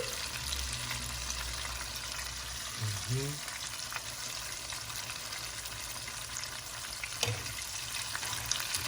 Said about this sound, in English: I'm gonna let these fry for a few more seconds.